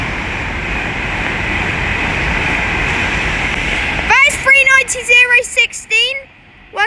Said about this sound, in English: I think that was the train from London Euston to Birmingham New Street.